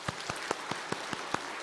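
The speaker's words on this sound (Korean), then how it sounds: "우리 큰 격려의 박수 부탁드립니다" A church congregation claps in encouragement for children, a faint, steady patter of applause with a handful of sharper individual claps standing out.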